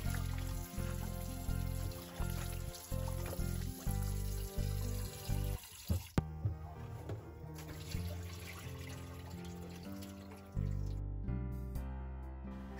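Water runs from a tap while catfish are washed by hand in a pot, with gushing flow, splashes and rhythmic sloshing that cuts out briefly midway and then returns in irregular bursts.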